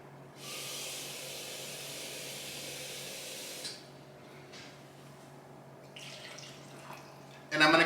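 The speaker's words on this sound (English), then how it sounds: "I'm gonna add 1 cup of water." Water poured into a pot sitting on a warmer gives a soft, steady hiss for a few seconds, then stops, leaving a quiet room with a few faint clinks.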